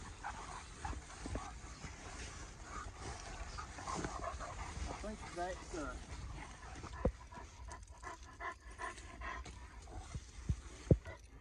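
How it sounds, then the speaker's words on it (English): Hunting dogs out at night pant, whimper and give occasional sharp barks nearby, mixed with someone speaking over rustling outdoor noise. "We just cut the dogs for a second time, and Hobo's opened up"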